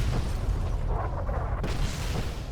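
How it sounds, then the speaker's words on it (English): Dense, rumbling explosions in Fallout: New Vegas, loud and continuous booms overlapping across the whole stretch with no voices. "So many explosions."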